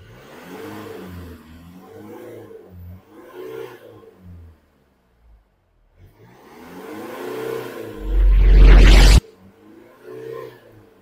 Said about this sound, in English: Now I'm going to start the car. and give nice 3-4 raving.